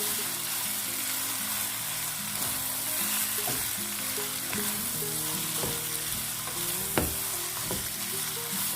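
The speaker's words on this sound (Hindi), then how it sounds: "अच्छे से वेजिटेबल्स के साथ पास्ता को मिक्स करेंगे।" Boiled pasta being mixed with vegetables in a pan, a steady close sizzle of frying with scraping spatula strokes and occasional sharp clanks against the pan, no talking.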